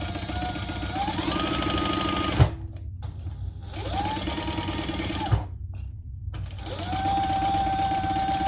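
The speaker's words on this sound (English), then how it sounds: "I'm just going to baste this in place for now." A sewing machine bastes a zipper in place on a Sue Sue sling crossbody bag, running in three steady, close bursts separated by short pauses, with a faint knock at each stop.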